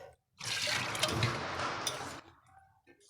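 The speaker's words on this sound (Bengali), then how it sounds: "দিয়ে দিচ্ছি জল জল দিয়েছি" Water poured into a cooking pan holding boiled potatoes and chicken for a ghugni curry, a steady splashing pour of about two seconds, close and fairly quiet, with no talk over it.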